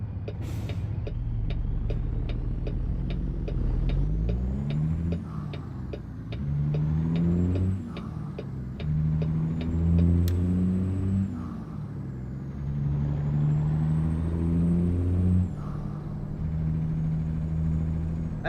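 An old Peterbilt truck engine, apparently a Caterpillar, rumbles and revs through repeated gear changes, rising and falling in pitch, loud and close, with a whining tone above.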